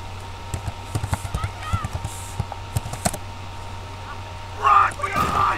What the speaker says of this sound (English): I could get a horse, hooves and all.